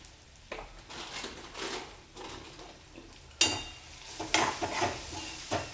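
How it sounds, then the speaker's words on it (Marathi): Homemade black masala being sautéed in oil in a pan, with a soft frying sizzle and scraping stirs that grow into louder clinks of a spoon on metal in the last seconds, no talking. "आता हा मसाल्यांचा कच्चापणा जाईपर्यंत परतून घ्यायचा आहे."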